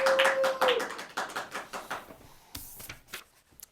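Scattered hand claps from a small audience fade out over a few seconds, followed by a few isolated taps near the end.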